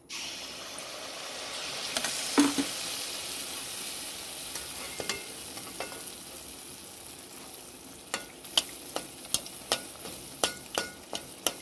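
Jackfruit malpua pancakes frying in a pan of oil, a steady close sizzle with sharp crackles and pops that grow more frequent toward the end; no talking.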